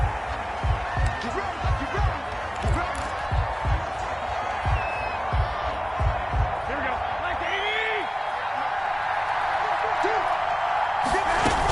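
A stadium crowd roars steadily in an American football video game, Washington Football Team versus New York Giants, with repeated dull thumps and a commentator talking over it.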